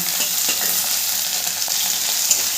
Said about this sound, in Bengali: এরপরে সমস্ত সবজিগুলোকে আমি ভালো করে মিশিয়ে ভেজে নেব।